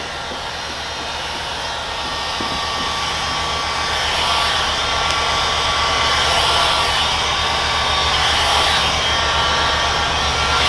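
A heat gun warms paint protection film on a car headlight, giving a steady loud airy blowing hiss that holds continuously throughout, growing slightly stronger after the first few seconds with no talk over it.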